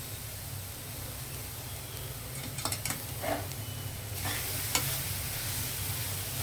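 Grated coconut and jaggery being stirred in a pan over low heat, a soft continuous sizzle with scattered scraping strokes of the spoon, fairly quiet and with no talk.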